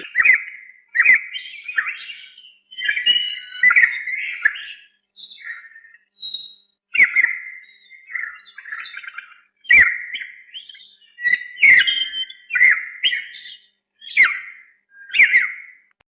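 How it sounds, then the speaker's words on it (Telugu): Bright bird chirps and whistles in a forest come in short repeated bursts with quiet gaps between, clear and fairly close, with no talking. "పక్షుల కిలకిల రావలతో అడవి చాలా కోలాహలంగా ఉంది."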